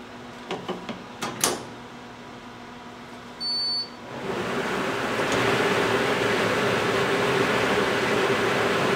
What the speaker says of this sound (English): Hold down the lid until it beeps.